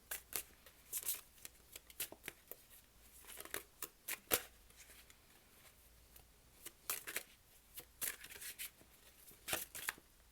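Tarot cards riffled and flicked one after another, soft papery shuffling bursts and snaps in close, quiet bursts with pauses between them.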